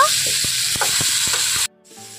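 Drumsticks, potatoes and eggplant with salt and turmeric sizzle steadily in a hot pan while a utensil scrapes and knocks rhythmically as it stirs, then the sound cuts off abruptly.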